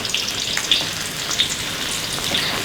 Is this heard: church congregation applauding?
no